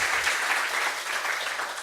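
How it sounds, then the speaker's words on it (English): Audience at a Europython 2017 conference talk gives a short burst of applause, a loud, dense and even wash of many hands clapping with no talking over it. "So big applause,"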